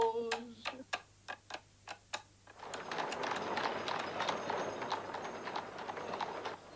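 Horse hooves clip-clopping in a steady, evenly spaced rhythm from horse-drawn transport in Aberdeen, crisp and close at first, then blended into a louder wash of continuous music and background sound.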